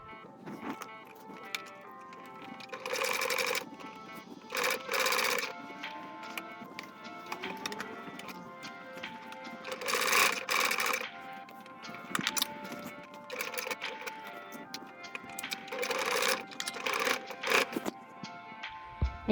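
A sewing machine stitches over an adjustable strap on a hunting suit, running in several short bursts of rapid stitching separated by pauses, close and fairly steady in loudness.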